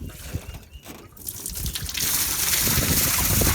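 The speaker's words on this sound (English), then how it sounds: "I'm gonna go ahead and open this valve and let the water in." Water rushing into a 2-inch pipe after a valve is opened on a pasture watering setup, starting as a faint trickle and swelling after about two seconds into a loud, steady gushing flow.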